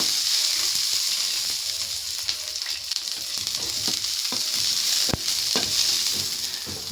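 Garlic sautéing in a little oil gives a loud, steady hissing sizzle with a few faint clicks of utensils against the pan.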